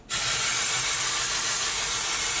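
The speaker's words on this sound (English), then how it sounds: "I'm just kind of spraying it to show you guys" A can of one-day colored hair spray, blue shade, releases a loud, steady hiss that starts abruptly and holds continuously at close range.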